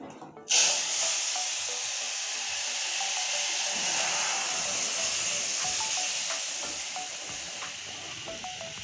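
Curry for a thin jhinge-aloo fish jhol is poured into a hot pan of tempering, setting off a sudden loud sizzle and steady frying hiss that holds for several seconds with faint stirring clicks, no talking.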